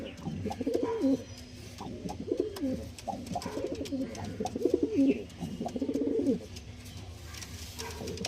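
Star Kalka pigeons coo nearby in repeated soft, throaty bursts, several overlapping calls with brief gaps between them, over a low background hum.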